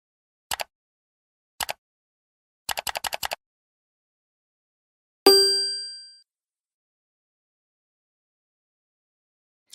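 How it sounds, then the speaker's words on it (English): Bell ding sound effect: a single bright metallic ding rings out clearly and decays over about a second, following several short bursts of clicking, with a tiny click at the very end. "now that you've rung the bell"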